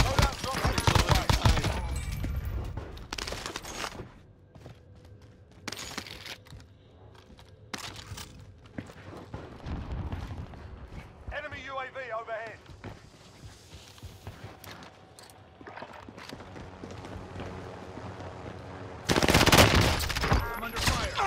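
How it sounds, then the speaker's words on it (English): Gunfire in the video game Warzone on Rebirth Island: loud bursts of automatic fire open and close the stretch, with scattered single shots, footsteps and quieter game sounds between. "I'm under fire."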